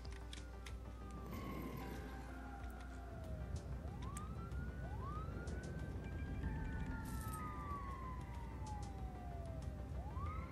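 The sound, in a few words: fire engine siren in SimCity video game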